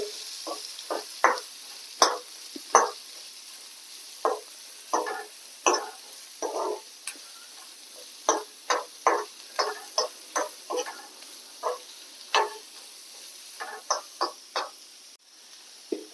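Chopped onions sauté in a pan for a chilli sausage dish, giving a soft continuous sizzle broken by repeated short scraping stirs of a spoon, close and fairly quiet, with no talk.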